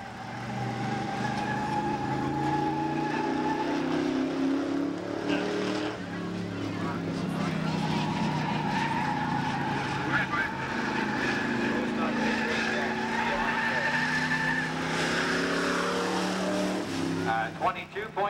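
A black Chevy Camaro race car laps Saugus Speedway, its engine droning loud and steady with rising and falling pitch as it circles, while a voice talks over the running engine.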